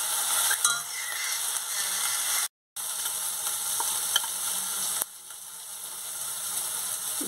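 Spice paste with garlic sizzles steadily in hot oil as it is stirred, a continuous close frying hiss with a brief silent break midway, for a pointed gourd and paneer kofta curry.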